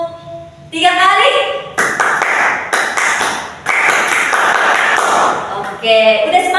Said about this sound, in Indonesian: Tepuk satu kali, satu kali. Tepuk dua kali, dua kali. Tepuk tiga kali.